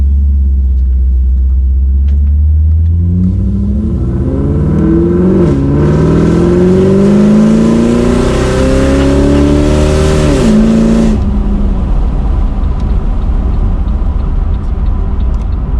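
A boosted Pontiac G8 rumbles low, then revs hard through rising gear pulls with loud engine roar up close, easing off near the end as the rumble settles back.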